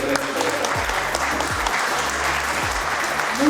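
A crowd at a public forum for the Yes vote in the plebiscite in Pamplona applauds steadily for the campesino leader Juan Carlos Quintero, a continuous clapping wash with a few low thumps underneath.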